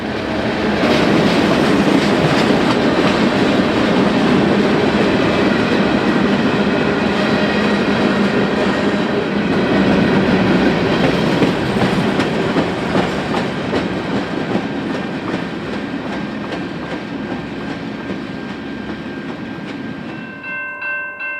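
A freight train on a busy Midwest railroad junction rolls past close and loud, with a continuous rumble and rhythmic wheel clatter over the track that fades slightly before cutting off.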